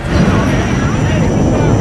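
Airplane caught in a storm, rendered as a sound effect: a dense, loud, steady roar of engine and wind noise that fills the whole stretch without pause.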